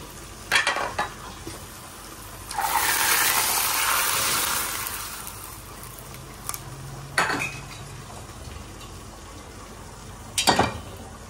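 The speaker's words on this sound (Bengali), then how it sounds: "আমার মাছ ভাজিও হয়ে গেছে, দেখো।" Fish and eggplant frying in a covered pan at home, with a few sharp clanks of pot and utensil, a long burst of hissing sizzle in the middle and later scattered clatters, with no talk.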